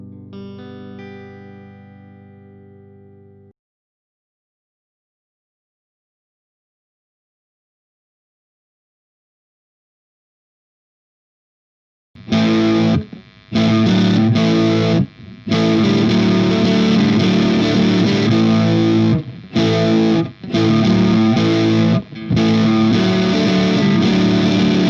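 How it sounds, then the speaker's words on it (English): Electric guitar on the neck pickup plays a brief clean-tone riff, then after a long pause returns as a loud, dense basic riff through a Laney Black Country Customs Mono overdrive pedal, with short gaps between phrases. "We're going clean tone on the neck pickup"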